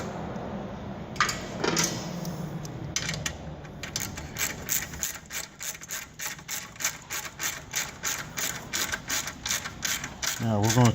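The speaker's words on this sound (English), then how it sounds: "Now we're going to tighten up the bottom bolt." A ratchet wrench tightens a compressor mounting bolt with a long run of regular, close ratcheting clicks that speed into a steady rhythm.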